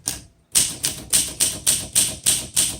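Typing on an Olympia SM vintage manual typewriter, eight crisp, evenly spaced key strikes in a steady rhythm after a brief pause, each a sharp close clack with a short decay.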